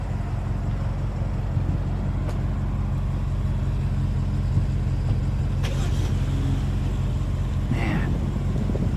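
A BMW X5 M is moved out of the way, its engine idling in a low steady rumble with brief faint clicks and small noises over it, and no one speaking.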